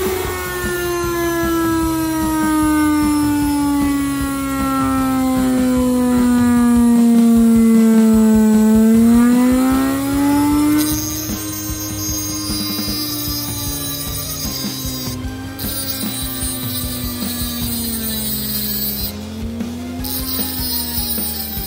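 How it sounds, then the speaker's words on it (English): A homemade grinder built from a washing machine universal motor spins up at high speed, giving a loud, steady whine that slides down and then climbs back up in pitch, with a harsh edge and brief cutting scrapes near the end. "the disc spins fast, the motor has no vibrations, and the grinder is very powerful"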